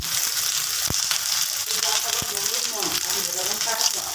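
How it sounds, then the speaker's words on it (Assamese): Onions fry in hot oil for a pork curry, giving a steady, loud, close sizzle throughout, with a voice faintly under it. "এয়া মই পিয়াজ দি দিছোঁ"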